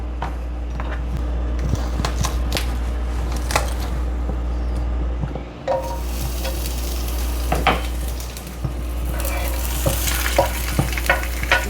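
Garlic fries in extra virgin olive oil for spaghetti pomodoro, a steady close sizzle under a low constant hum, with scattered clinks and scraping stirs throughout and no talking.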